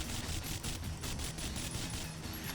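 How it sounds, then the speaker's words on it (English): Dense rapid gunfire from a video game crackles continuously, bursts of shots and automatic fire layered together at a moderate, slightly distant level. "all of the gunfire and whatnot"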